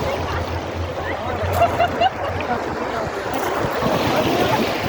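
Sea waves on a beach at Genoa on the Ligurian Sea, a steady broadband wash of surf with gusty wind buffeting the microphone throughout, fairly loud and close, with no voices.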